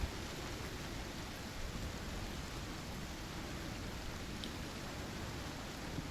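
Steady rain pours without a break during a thunderstorm in the survival game Icarus. It makes an even, full hiss with no distinct thunder crack and no voices.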